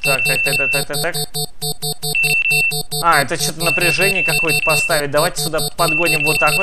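A repeating electronic alarm siren blares through a heist scene in the video game Sneak Thief, steady and loud in regular pulses, with someone talking over it throughout.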